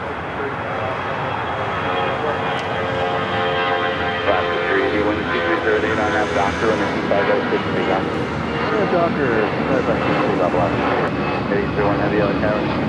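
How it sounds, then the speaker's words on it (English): Jet airliners, including A380s, take off on the south side at LAX, a loud, sustained engine roar that swells and holds while someone talks over it. "We're getting closer to those two A380s taking off here on the south side."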